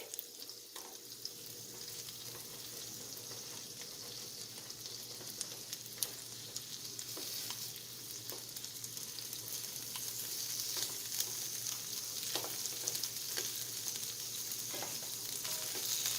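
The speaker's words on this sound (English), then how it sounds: "after 2 minutes, I'm going to flip the shrimp on the other side." Shrimp frying in a pan for a vegetable stew, a soft continuous sizzle that grows a little louder over time, with occasional faint clicks as pieces are turned, no voices.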